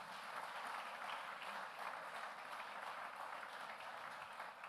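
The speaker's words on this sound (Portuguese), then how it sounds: "Então vamos aplaudir Jesus mais uma vez" A church congregation applauds in a steady crackle of clapping that carries on throughout. It is faint and sounds distant, with no voices over it.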